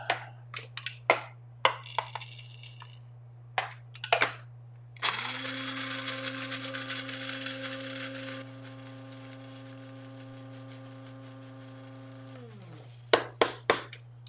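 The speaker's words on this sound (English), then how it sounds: "I'm gonna grind up some pepper really fast." A pepper grinder cranked by hand, short bursts of crunchy ratcheting clicks, then one longer grinding run, over a steady low electrical hum in a quiet kitchen.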